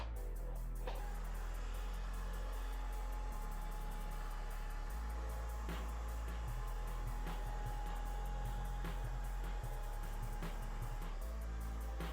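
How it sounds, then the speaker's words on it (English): A hair dryer fitted with a diffuser blows steadily while drying the roots of short, curly transitioning hair, a continuous close airy roar with slight shifts in pitch as it hovers and moves. "I'm just going to take my diffuser and I will just hover and try and dry the roots first and the midsection"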